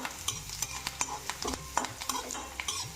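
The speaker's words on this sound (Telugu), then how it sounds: "అల్లం కరివేపాకు పచ్చిమిరపకాయలు వేసి మళ్ళీ వేపాలి ఇలాగే వేగనివ్వాలి" Ginger, curry leaves and green chillies frying in a pan for upma, an ongoing sizzle with frequent clicks and scrapes of a spoon stirring against the metal, close and rhythmic, no voices.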